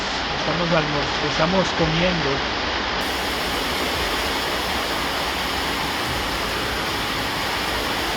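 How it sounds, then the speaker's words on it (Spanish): Heavy rain falls in a dense, steady roar that fills the whole stretch, with a person talking briefly over it at the start. "Está lloviendo a cántaros"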